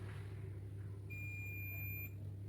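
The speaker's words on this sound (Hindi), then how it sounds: "हम इन दोनों प्रोब को जैसे ही टच करेंगे हमारा मल्टीमीटर बीप करने लगेगा।" A multimeter gives a single steady, thin electronic continuity beep for about a second as its probes touch, heard over a low mains hum in a quiet room.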